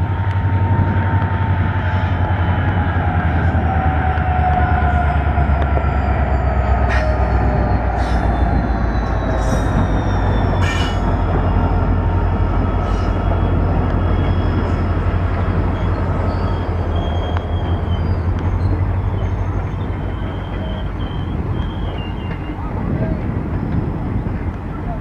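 The Chalukya Express rolls past, slowing for a crossing with the Janashatabdi Express, with a loud, continuous deep rumble and rattle of wagons and occasional high squeals over the whole span, a voice talking beneath.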